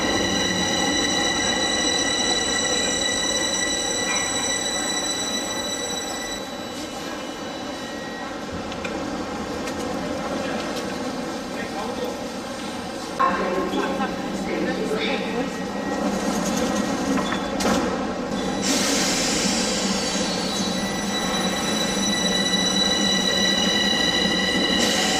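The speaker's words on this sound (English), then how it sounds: "Gara de Nord, which is Bucharest's main railway station, with trains serving the whole of the country." Trains at Gara de Nord, Bucharest's main railway station, heard as a continuous rumble of rail traffic with squealing wheels and metallic tones, a louder surge partway through, and faint voices in the background.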